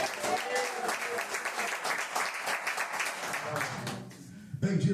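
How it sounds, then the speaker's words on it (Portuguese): A congregation at an evening prayer-house service applauds in praise, many hands clapping in a lively, uneven patter mixed with voices, easing off briefly near the end before picking up again. "Quem pode dar uma linda salva de palmas a Jesus?"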